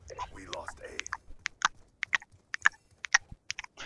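A voice mimics someone chewing popcorn, producing a string of sharp, wet crunching and smacking clicks in an uneven rhythm, close and distinct after a brief lead-in of breathy vocal sound.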